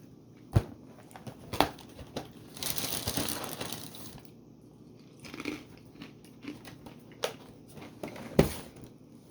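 Someone crunching and chewing a mouthful of Nature's Path Organic Keto Cinnamon Toast cereal, close to the mic: scattered crisp bites and a longer burst of crunching, then quieter chewing, with no talk.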